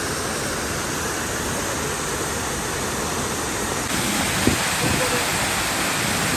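Prut Falls, a waterfall in Meghalaya, roars as a steady broadband rush of falling water, close and continuous, with a slight rise in intensity partway through.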